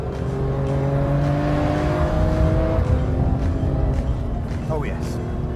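A Singer Porsche 911 sports car is driven hard, its engine droning loudly with steady harmonic revs and a short tyre squeal toward the end, with someone speaking over it.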